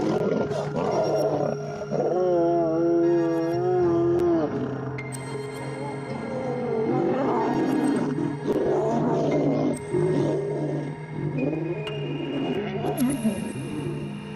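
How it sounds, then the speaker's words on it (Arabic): A lion roars at a lioness, its deep, throaty calls rising and falling in repeated bursts with growls between them, close and loud over a wild outdoor background. "إن ده مجرد زئير سيطرة وهيمنة"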